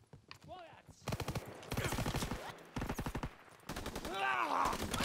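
Shotgun fire and surrounding battle gunfire in the Call of Duty: WW2 video game, loud repeated blasts and rattling bursts with shouting voices between them.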